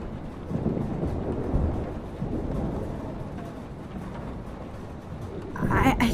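A stormy scene in the game Life is Strange: a steady wash of rain and wind with low rolling thunder rumbles, building to a louder crackle near the end.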